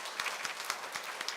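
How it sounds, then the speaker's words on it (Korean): A church congregation at a Sunday worship service gives welcoming applause, a steady patter of many hands clapping together at moderate volume throughout the short moment. "환영의 박수로 맞이합니다."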